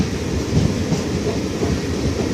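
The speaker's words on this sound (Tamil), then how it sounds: "அங்கே ஒரு ட்ரெயின் வந்து பாருங்க" A train rolls close by with a loud, steady rumble and a faint rhythmic clatter of wheels on the rails.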